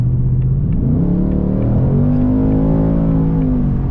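A 2024 Ford Mustang GT accelerates hard in normal mode, its V8 engine note rising steadily in pitch through a continuous loud, rumbling pull with no talking.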